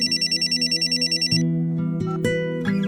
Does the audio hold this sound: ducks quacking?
no